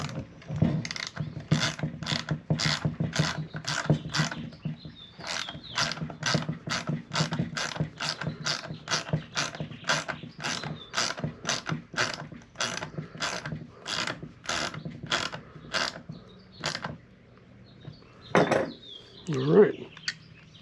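A ratchet wrench tightens a fitting on a Sonex AeroInjector in a long run of quick, evenly spaced clicks, each loud and close. Near the end come a couple of heavier knocks and a short rustle.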